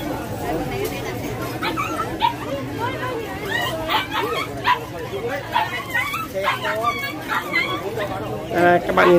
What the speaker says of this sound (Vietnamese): các bạn nhìn đàn chó này chưa